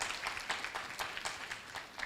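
Faint audience clapping at a Kenyan media awards ceremony in 2023, a quiet, uneven patter of hands heard from a distance for a couple of seconds.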